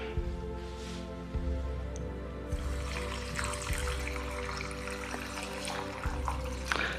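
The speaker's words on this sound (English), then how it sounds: "So I'll put water in it." Water is poured into a container for a fermented Ayurvedic kanji drink, a soft continuous trickle and splash that grows fuller partway through, faint and close with a few light knocks.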